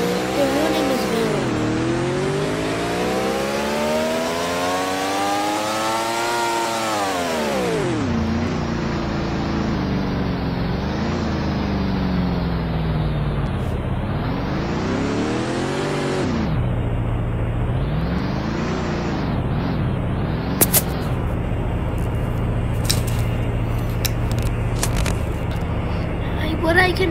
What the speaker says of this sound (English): This is a Bugatti Veyron, or in this they call it Dayton, Bugatti Dayton.